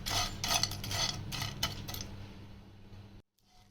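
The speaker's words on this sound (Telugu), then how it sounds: "మనం తీసుకున్న ఎండు చేపల్ని ఏం వేసుకోకుండా వీటిని మంచిగా ఫ్రై చేసుకోవాలి" Dried fish being dry-fried in a pan with no oil, giving a series of quiet scraping, rattling strokes in a steady rhythm before cutting to near silence.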